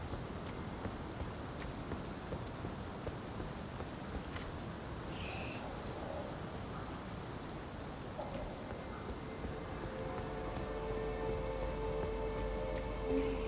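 Steady rain falling at the academy in the video game Elden Ring, a soft, faint, continuous hiss of drops with a few faint distant calls and a low tone entering near the end.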